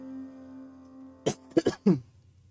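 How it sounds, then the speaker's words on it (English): A short run of coughs or throat clears, close to the microphone, from someone building a Lego DeLorean and still recovering from an illness; three or four sharp bursts after a quiet stretch with low background hum. "I didn't mean to cough into the microphone like that"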